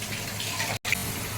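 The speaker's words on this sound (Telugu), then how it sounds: "ఉడుకుతుంది చూడండి" A mango pickle mixture bubbles and simmers on a stove, a continuous close wet burbling with one abrupt brief cut.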